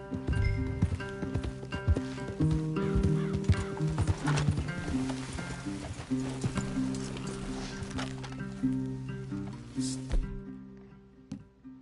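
Horses in the Red Dead Redemption 2 game world clip-clop and shift about with an occasional whinny, moving steadily under a continuous bed of orchestral game music.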